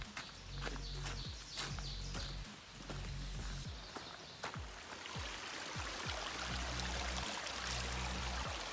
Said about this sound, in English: Lots of streams.